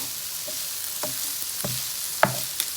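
Chopped onions sautéing in oil left over from frying, a soft low sizzle punctuated by several sharp spatula scrapes and knocks against the pan, close and without talk.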